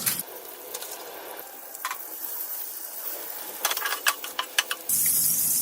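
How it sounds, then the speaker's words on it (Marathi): Butter melting on a hot tawa (flat griddle) gives a soft, steady sizzle with scattered sharp crackles, growing into a louder, brighter hiss near the end, with no talking. "तवा गरम झाल्यावर बटर टाकते"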